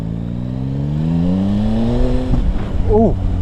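A 2021 Yamaha Tracer 9 GT motorcycle engine pulls steadily upward in pitch, then snaps through a quick-shifter gear change with a brief blip and keeps climbing, loud and close under wind noise.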